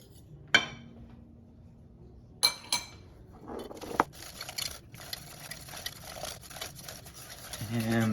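Lemon cheesecake filling is whisked in a bowl: clinks of a utensil against the bowl, then a stretch of busy, fast scraping and stirring, with a voice nearby.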